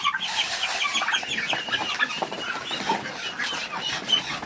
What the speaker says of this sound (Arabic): امال يا واد يا نصر، امال فين ذكر البط التاني يا ولد